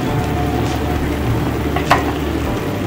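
Barramundi (bhetki) pieces frying in a pan for a scrambled fish bhuna, a steady loud sizzle running throughout with one brief clatter near the end and no talking.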